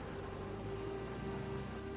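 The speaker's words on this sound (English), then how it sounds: "you have the sound of the rain all around her" Steady rain falls all around a woman standing under an umbrella, a dense, even hiss of drops close by that holds at a constant level with no voices.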